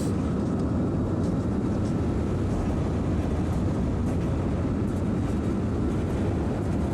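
A rollercoaster train in the Planet Coaster video game rumbles along its track with a steady, dense low roar that stays loud and unbroken throughout, with no talking.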